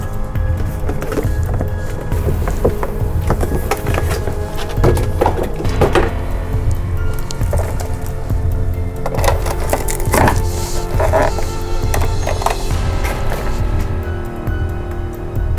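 Handling noises as a 1/18 scale 1958 Plymouth Fury die-cast model car is pulled from its cardboard box, with close, steady rustling, scraping and knocking throughout and no talking.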